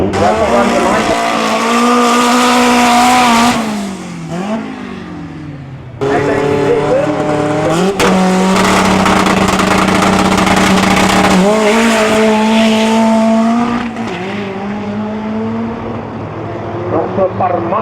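Drag race car at Tarlton Raceway regionals launching hard with wheelspin up into second gear, a loud sustained engine roar with rising and falling revs and a shift, running close and continuous throughout.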